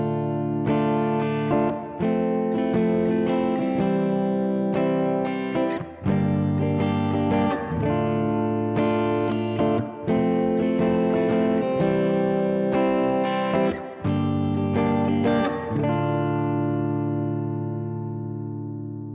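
A sustained, distorted electric instrument plays a slow chord progression with a minor four chord, each change marked by a fresh attack, ending on a ringing chord that fades away.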